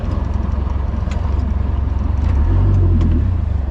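A boat's outboard motor runs steadily on a pond, a loud close drone that rises slightly in pitch and strength toward the end as it works harder.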